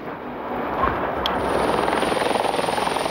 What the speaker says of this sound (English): Like clockwork, every 5 minutes a helicopter lands, bringing refugees from the flood.